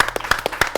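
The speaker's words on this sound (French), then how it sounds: "Je vais vous demander d'applaudir une des meilleures personnes qui est ici." An audience at a live show applauds, giving a short burst of rhythmic, fairly close clapping.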